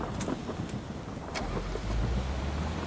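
A car drives in PUBG squads gameplay, giving a steady low engine drone with wind rush that swells slightly toward the end, fairly loud and unaccompanied by speech.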